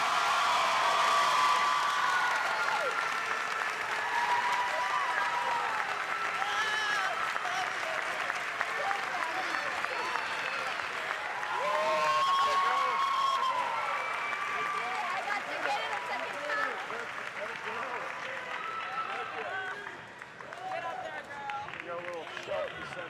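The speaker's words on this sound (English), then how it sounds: "Let's give another round of applause for our ladies' top 3 Mayhem Classic 2025." Crowd applauding the ladies' top three at the 2025 Mayhem Classic, sustained clapping with occasional whoops and cheers from a large audience, people talking underneath, fading slightly near the end.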